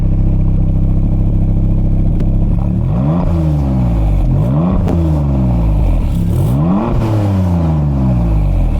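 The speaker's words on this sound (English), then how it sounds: "Can you rev it for me a bit?" Maserati MC20 V6 supercar engine idling steadily, then revved three times in quick succession, each blip climbing sharply and falling back; loud and close with no talking.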